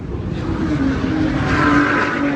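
A racing supercar's engine runs on a track at a track-day rally, a close, steady rumbling drone that holds evenly throughout with no other sounds.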